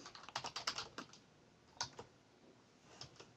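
Typing on a computer keyboard to enter a server command: a quick burst of key clicks, then a few scattered single taps, close and fairly quiet, with no speech.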